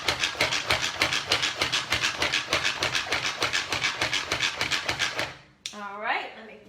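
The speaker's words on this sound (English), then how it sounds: "having a manual food chopper makes this process just so easy" A manual food chopper cuts onions with fast, rhythmic rasping pulls that repeat steadily for about five seconds, then stop, followed by a short squeaky rattle.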